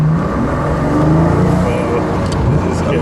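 A 12-cylinder Mercedes GT accelerating in traffic, its low engine drone rising steadily and loudly throughout, with people talking over it inside the car.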